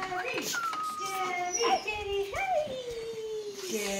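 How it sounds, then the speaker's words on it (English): A stray dog that follows a visitor around Dharamsala, India, gives short whimpering, whining yelps at close range, mixed with children's voices and chatter in the background. "a dog that has been following me around Dharamsala"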